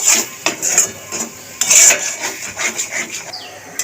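Masala with salt and sugar stir-fried in a pan for paneer butter masala, a spoon scraping and clinking against the metal in repeated close strokes under a soft sizzle.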